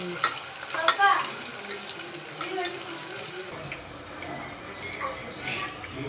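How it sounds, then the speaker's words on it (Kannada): Onions being stirred as they fry in a pan until brown, with soft scraping and a faint, steady sizzle close by, broken by a few brief clinks. "ಈರುಳ್ಳಿ ಬ್ರೌನ್ ಕಲರ್ ಬರಬೇಕು, ಅಲ್ಲಿವರೆಗೂ ಸ್ವಲ್ಪ ಕೈ ಆಡಿಸ್ತಾ ಇರಬೇಕು"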